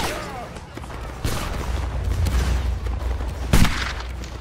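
Musket volleys in a Napoleonic Wars battle game, with several loud overlapping bursts of fire, the sharpest crack near the end, over a busy rumble of distant shots while a voice shouts commands.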